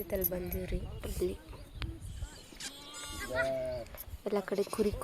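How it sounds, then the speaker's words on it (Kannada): Sheep bleat nearby in an open area where sheep are all around, a few wavering cries mixed in among people talking. "ಎಲ್ಲ ಕಡೆ ಕುರಿ ಇದಾವ್ರಿ"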